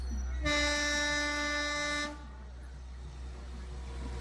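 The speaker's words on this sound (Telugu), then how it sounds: "ఇక్కడ చూడండి ఒక బుల్లి ట్రైన్ వెళ్తుంది" A small tourist train on the Vizag to Araku route sounds its horn in a steady multi-toned blast of about one and a half seconds, close by and loud over a low rumbling background, then fades.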